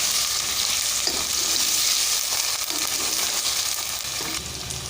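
Chopped potatoes fry with garlic and ginger in hot oil for aloo rice, a steady loud sizzle with occasional stirring scrapes and no talking.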